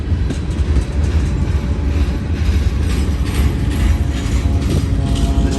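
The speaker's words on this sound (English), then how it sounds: "More boxcars coming up." Freight boxcars on a train over a mile long roll steadily past nearby, a continuous heavy rumble with faint rhythmic clacking of wheels over rail joints.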